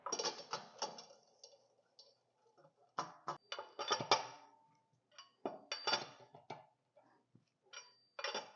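Ratcheting and clanking of tools while reinstalling a rear wheel on a Nissan Armada, bursts of quick metallic clicks and rattles separated by short quiet gaps, close by.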